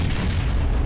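A frag grenade blast in PUBG, a single loud, booming explosion that fills the short moment with a heavy low-end rumble and no voices over it.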